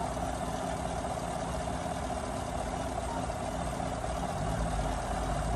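A 2016 GMC Sierra Denali pickup with the 5.3 engine idles quietly and evenly, a soft steady hum under a broad wash of background noise, with no talk.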